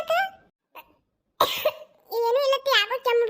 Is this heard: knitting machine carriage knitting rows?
no